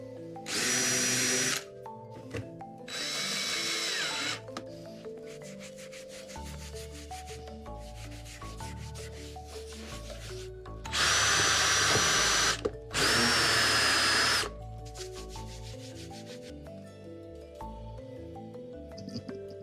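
Power sanding of a cut section of timber for a WW1 Grenadier Guards drum restoration, coming in several loud bursts of two to three seconds separated by quieter workshop sounds, with no talking.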